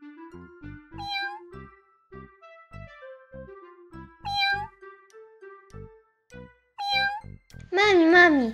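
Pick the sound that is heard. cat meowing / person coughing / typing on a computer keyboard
cat meowing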